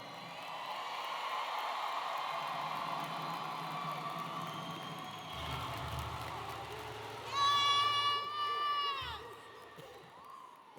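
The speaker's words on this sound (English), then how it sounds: "Let's give this class a round of applause." A crowd at the Riley High School 2025 graduation ceremony applauds and cheers for the class of 2025, a sustained distant roar of clapping and shouts with sharp whistles rising near the end.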